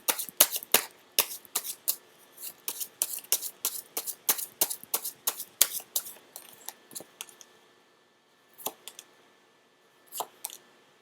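A rapid run of crisp riffling bursts from tarot cards being shuffled, close and clear, then a pause and a few isolated snaps near the end.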